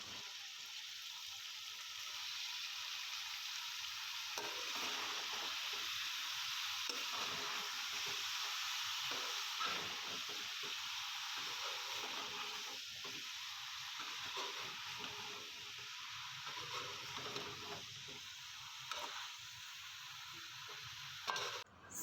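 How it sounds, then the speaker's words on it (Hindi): Potatoes and chopped eggplant fry in a pan for aloo baingan sabzi, a steady, close sizzle with bursts of stirring and scraping running throughout without pause. "3 से 4 मिनट अच्छी तरह आलूओं को भूनने के बाद अब मैं इसमें ऐड करूँगी बैंगन"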